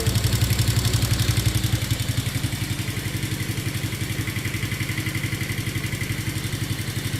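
A child's Paw Patrol ride-on four wheeler runs under throttle with a close, steady electric whir and a rapid rhythmic clatter that softens slightly after the first couple of seconds.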